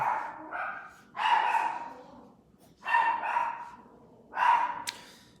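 A dog barks excitedly indoors in repeated bursts of several loud, close yips and woofs, with short pauses between the volleys.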